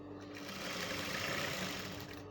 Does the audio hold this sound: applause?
no